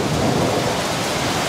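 Steady heavy rain with a rumble of thunder during a cold front storm in Mittersill, Austria, a dense continuous wash of noise with no voices.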